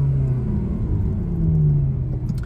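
A Ferrari 360 Modena engine drones and rumbles at speed, a steady loud low growl with a slight rise in pitch, heard from inside the car with no talking.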